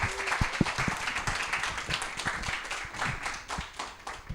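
A theatre-style studio audience claps and applauds steadily, a dense patter of many hands with a few sharper close claps standing out, continuing evenly throughout.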